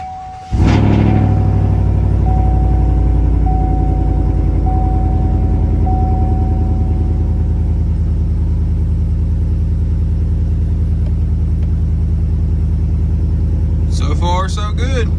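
A 2019 Silverado pickup truck engine cranks and catches, then settles into a loud, steady idle rumble; a voice briefly speaks near the end.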